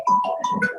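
A mobile phone ringtone plays as a few short, bright melodic tones in quick succession, close and clear indoors.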